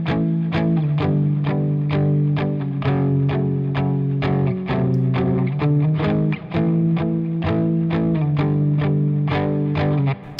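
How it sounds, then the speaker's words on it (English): Palm-muted electric guitar plays a verse part as short, repeated chord fragments in a steady rhythm. The tone is distorted with a chorus-like shimmer, loud and close, and no one speaks. "So for the verse part on guitar, it sounds like this."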